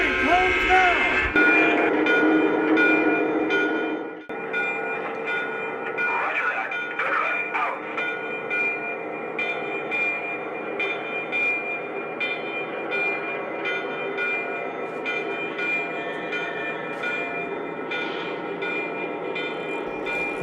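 A model train rumbles steadily past, with a continuous mechanical hum and a few brief horn-like tones, and voices murmuring faintly throughout.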